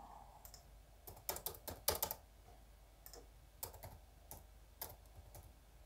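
Close computer keyboard typing as numbers are entered into an accounting form, short bursts of quick key clicks separated by pauses, fairly soft with no talk.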